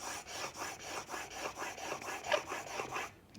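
A shoulder plane blade is stroked back and forth on a sharpening stone in a steady rhythm of about eight close, soft rasping passes, with no voices.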